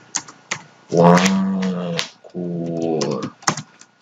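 Clicks of typing on a computer keyboard, scattered and uneven, heard under and between someone speaking French.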